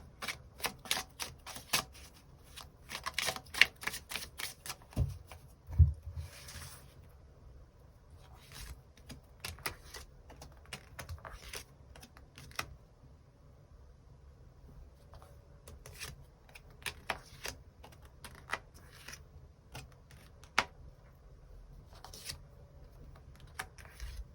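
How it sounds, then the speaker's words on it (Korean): Tarot cards are shuffled and drawn in a quiet room, making soft, irregular bursts of riffling and snapping clicks in close clusters, with quiet gaps between. "추가 카드 뽑아보도록 하겠습니다"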